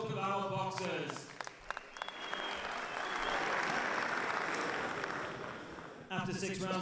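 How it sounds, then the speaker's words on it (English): Crowd at an IBA Champions' Night boxing event applauding both women's 75 kg boxers after the bout, a sustained round of clapping swelling for several seconds, with an announcer speaking over the PA before and after. "let's have a big round of applause for both of our boxers."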